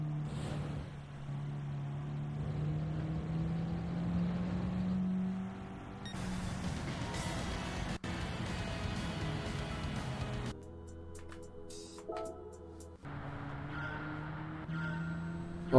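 Simulated race car engine in Gran Turismo 7 on a track with curbing, droning steadily and shifting pitch as it brakes and accelerates through corners, loud and continuous with abrupt changes in tone.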